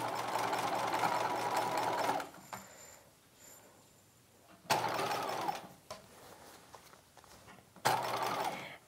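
A sewing machine understitching the lining of a 1950s halter dress runs in three separate bursts of steady whirring, broken by quiet pauses with faint handling noises in between.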